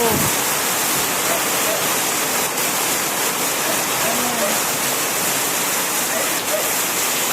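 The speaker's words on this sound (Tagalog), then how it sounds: "Sobrang lakas ng ulan." Heavy rain pours down during a strong windstorm, a loud, unbroken roar of water beating on surfaces that stays constant throughout.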